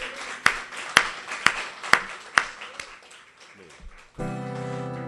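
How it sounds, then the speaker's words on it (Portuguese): A church congregation claps in rhythmic unison at a gospel worship service, five sharp, evenly spaced hits about half a second apart over a murmur of voices, then sustained music swells in at the end. "vamos aplaudir mais uma vez ao Senhor"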